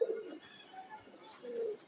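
A male pigeon cooing close by, two soft, low throaty coos at the start and end with quiet room noise between.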